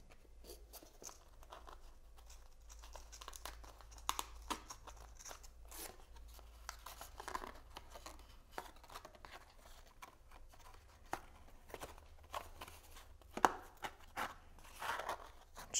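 Paper from a cut-paper craft piece being pushed through a slit, producing soft, irregular crinkling and scraping rustles with occasional sharper crunchy ticks, fairly quiet and close, with no talking.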